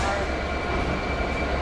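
Steady low rumble and hum of a four-coach Southwest train standing at a station platform, constant and fairly loud, with a faint tone running throughout.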